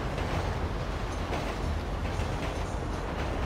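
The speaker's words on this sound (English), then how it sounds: "Wait for the train to go by." A train rolls past at a level crossing in the video game GTA 5 on PS4, a steady low rumble with faint rhythmic clatter, continuous and fairly close for the whole stretch, with no voices.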